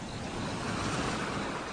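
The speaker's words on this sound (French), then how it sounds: "Tu es bercé par le bruit des vagues qui viennent s'échouer sur la plage." Ocean waves wash steadily onto a beach in a soft, continuous roar of surf, faint and distant, with no voices or other distinct sounds.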